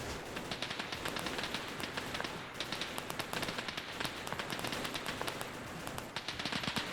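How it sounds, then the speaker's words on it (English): MG3 machine guns in a military video game fire in steady, rapid bursts that sound fairly distant and faint, rattling on for several seconds without voices. "They're suppressing with MG3s."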